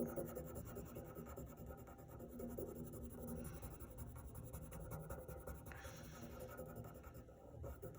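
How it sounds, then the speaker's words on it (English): Dark graphite pencil shading across paper, a steady soft scratchy rasp of continuous strokes that runs close and quiet with no talking. "We're going to start our shading at the bottom like we did with these. We have our dark graphite."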